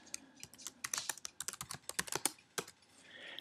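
Fingers typing a drive name on a Mac keyboard, a quick close run of crisp key clicks in uneven bursts, with no voices.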